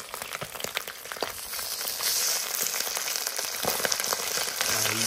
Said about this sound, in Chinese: 两个鱼头啊，两个鱼身， 翻个面，哇，炸得金黄金黄。